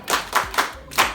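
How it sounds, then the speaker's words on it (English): Classroom pupils give a short burst of clapping, four loud, close claps in a quick even rhythm. "You clap for that man."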